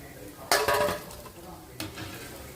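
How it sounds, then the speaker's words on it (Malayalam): Potato bondas being scooped out of hot frying oil with a metal ladle, giving a couple of sharp clanks and scrapes against the pan over a faint sizzle. "നമുക്കിത് എണ്ണയിൽ നിന്നും കോരി മാറ്റാം"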